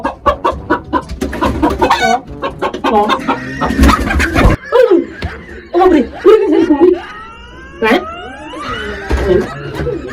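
Chickens cluck and squawk frantically while being caught, with loud, rapid, agitated calls close by. People shout over the commotion.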